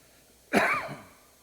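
A single sharp cough bursts out after a moment of quiet, then trails off with a short rasp.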